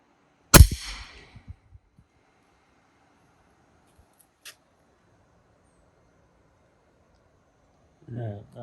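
One sharp, loud crack from an unsuppressed Edgun Leshiy 2 air rifle, close by, with a short decaying tail and a few faint clicks afterward; a voice comes in briefly near the end.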